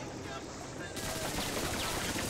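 Rapid aircraft gunfire in the Freaky Flyers video game, a dense, continuous rattle that swells louder after the first second and keeps going without a break.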